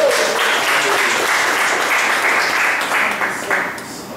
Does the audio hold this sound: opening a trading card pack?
no